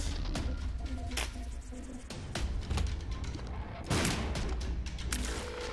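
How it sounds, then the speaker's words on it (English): Bombs exploding in The Binding of Isaac: Rebirth, a pair of sharp booming blasts with a low thud and broad crackle, set among busy game effects and a talking voice. "Double bombs."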